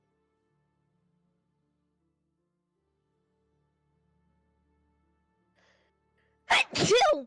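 A single loud, close sneeze bursts out after several seconds of near silence, followed by a sharp second burst, with a faint voice trailing at the end.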